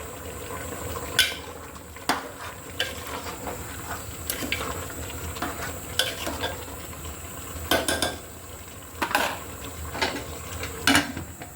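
Beef with chana dal being stir-fried in a pan, with a spatula scraping and clattering in irregular bursts over a low sizzle; close by, no talking.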